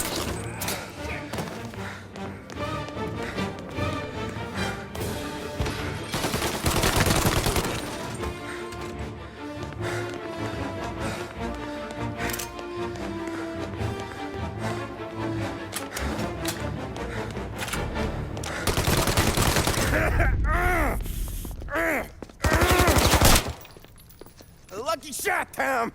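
Gunshots and crashing impacts from a Mafia Definitive Edition shootout come in several loud bursts over a dense game soundtrack, with voices talking at intervals.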